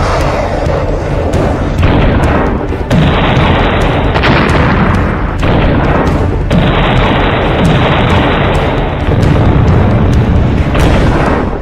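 Missile explosion during a Russian attack on Odesa: a sustained, heavy roar of blasts and rumbling booms, loud and continuous, with repeated sharp surges throughout and no voices.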